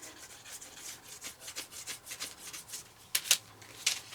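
Edge tool rubbed along the damp, freshly stained edge of a leather magnetic bookmark, giving quiet rhythmic scraping strokes, close and soft, with a few sharper rasps near the end.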